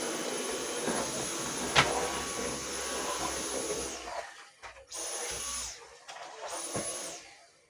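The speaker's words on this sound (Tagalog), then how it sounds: "So, binabacuum ko dito kasi yung mga buhok, binitipid sa carpet." Vacuum cleaner pulling hair out of a carpet, a steady whining roar that drops away twice near the end and restarts in short bursts with a high whistle.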